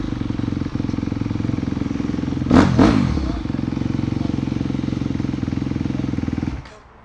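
A Kovi CRS 250 motorcycle engine idling up close, a loud, steady rapid thumping with a brief blip of revs near the middle, then cutting off toward the end.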